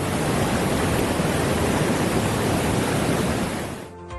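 A waterfall behind a Shiva temple pours at full force, a loud, steady roar of rushing water that holds constant and drops away abruptly near the end.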